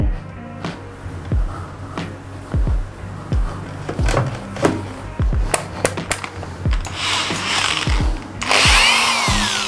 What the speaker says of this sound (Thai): ขัดละเอียดนี่จะใช้ใบฟองน้ำแล้วนะครับ